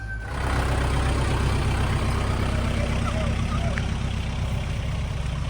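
A motorcycle engine runs steadily nearby beside a river in a rural fishing area, with a continuous low rumble that stays loud and even. People talk over it.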